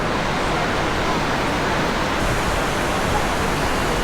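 Rain falls steadily on a hiking trail at Taman Tugu, a dense continuous hiss that fills the whole stretch without pause, loud and close, with no speech over it.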